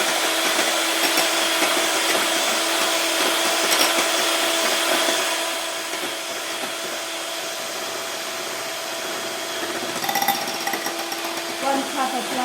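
Yorkshire pudding batter of eggs and oil is beaten with an electric mixer, a steady loud motor whine that drops in pitch partway through and carries on with rattling bursts near the end.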